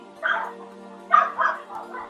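Several dogs bark and yip in a few short bursts, moderately close, with a steady low hum underneath and no talk.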